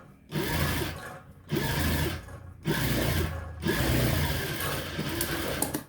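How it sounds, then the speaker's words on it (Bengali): A sewing machine runs a blouse seam in four separate bursts of steady, close mechanical whirring, each start-stop clearly separated by brief pauses. "তারপর ঠিক একটা চাপ সেলাই দিয়ে দিবেন।"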